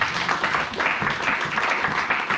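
A church congregation applauding together, dense continuous clapping that fills the space, close and fairly loud with a murmur of voices mixed in.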